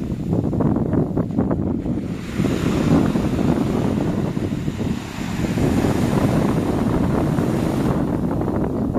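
Rough surf breaks along the beach at Caleta de Fuste, Fuerteventura, with a loud, continuous wash of churning water and heavy wind buffeting the microphone, the roar swelling and easing slightly.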